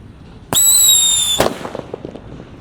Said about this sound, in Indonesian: di sini ada mercon Happy Power 3 yang akan kita nyalakan